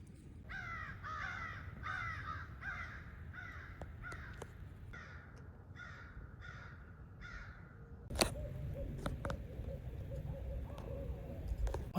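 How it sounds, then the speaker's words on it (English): Owls hoot repeatedly in North Carolina game-land woods, a series of rhythmic calls at middle distance, followed by a sharp crack and a quieter answering call over steady outdoor background noise. "Bunch of hoot owling."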